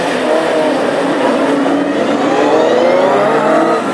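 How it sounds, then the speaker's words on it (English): Classic hot rod race cars on warm-up laps at Birmingham make a loud, sustained engine drone, with the pitch rising as the cars go by close. "So warm-up laps again."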